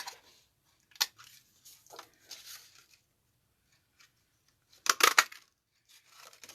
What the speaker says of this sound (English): I'm going to punch them out from the mat to save paper